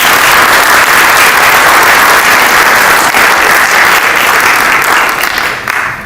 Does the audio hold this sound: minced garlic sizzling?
no